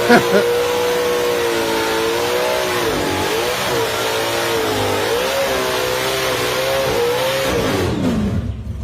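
A car engine revs hard and close, its pitch rising and dipping in repeated throttle swells before cutting off abruptly near the end.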